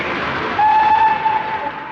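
A4 locomotive 60017 Silver Fox hauling The Elizabethan non-stop to Edinburgh sounds a sharp whistle on departure over a steady rumble, a single clear tone lasting about a second.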